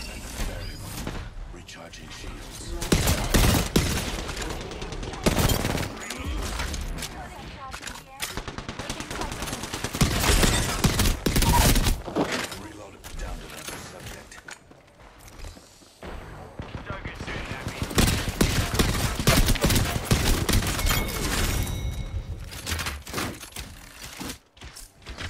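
Nemesis burst rifle firing in Apex Legends, loud rapid bursts of gunfire repeating in clusters across the whole stretch, with short pauses between volleys and a voice talking at times.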